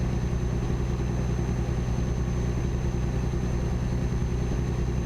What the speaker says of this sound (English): It sounds like the truck's just about to die.